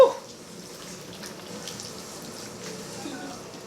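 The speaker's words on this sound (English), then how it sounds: "This is the meat stock I'm adding right now." Meat stock pours into a cooking pot for Ofada sauce (ayamase), a soft continuous liquid splash and trickle that stays fairly quiet and even throughout.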